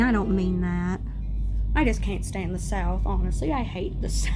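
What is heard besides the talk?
No everyday noise stands out behind the speech.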